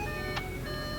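A 2019 Audi chimes repeatedly to warn that a door is open, a soft electronic tone sounding steadily over a low background hum.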